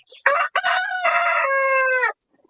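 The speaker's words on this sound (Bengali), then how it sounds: "এই যে মুরগি আছে, খুব সুন্দর মুরগি" A rooster crows once, loud and close, a long drawn-out call lasting about two seconds with a brief break near the start.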